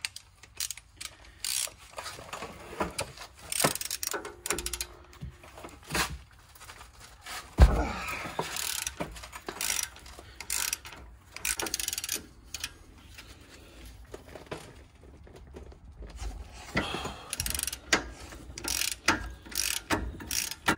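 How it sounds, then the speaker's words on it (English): A ratchet wrench loosening 21 mm rear brake caliper bracket bolts on a 2016 RAM 1500: repeated close clicking ratchet strokes in bursts, with metallic scrapes and a sharp knock partway through. "So now we're gonna go ahead and take the 21 mil bolts out."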